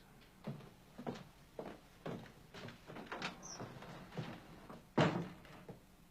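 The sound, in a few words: door being closed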